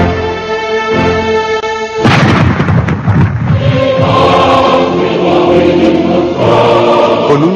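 A naval cannon shot from the cruiser Aurora, October 1917: after sustained harmonic music, a single heavy boom bursts in at about two seconds and rolls into a long, loud rumbling decay beneath the continuing music.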